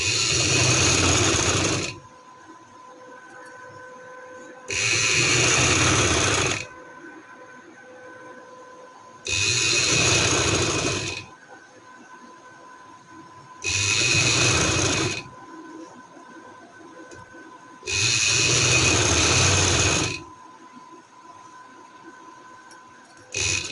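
A sewing machine stitches trouser fabric in five separate runs of about two seconds each, a fast whirring rattle broken by short quiet pauses.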